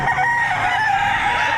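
A rooster at a livestock auction market in Padre Garcia, Batangas, crows loudly and close, one long sustained cock-a-doodle-doo with harmonic bands, no voices over it.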